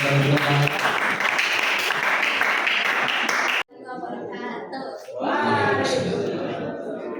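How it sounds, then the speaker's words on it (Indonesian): Loud, sustained applause from an audience at a communication skills seminar for vocational school students, with voices and some laughter mixed in, a brief drop midway, then clapping and chatter resume. "ada boleh tepuk tangan buat yang sudah tampil."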